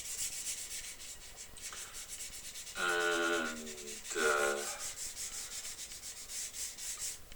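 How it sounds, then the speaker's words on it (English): Hand sanding of a wooden carving knife handle with 600 grit sandpaper, quiet close-up rhythmic rubbing strokes, with two brief tonal squeaks in the middle. "I'm just finishing up with the 600 just to get a real smooth surface"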